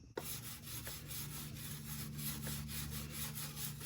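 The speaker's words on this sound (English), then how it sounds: "brush the frame rail some just to get some of this gunk off of it" A brush scrubs back and forth against the frame rail of a 1977 Ford F150 4x4 to clean off gunk. The scratchy strokes repeat in a quick, steady rhythm, close and fairly quiet, with no talk.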